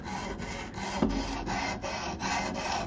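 Knife blade drawn across a stone on a Ruixin Pro clamp-style sharpener, giving repeated rhythmic rasping strokes, close and fairly soft, with no talk.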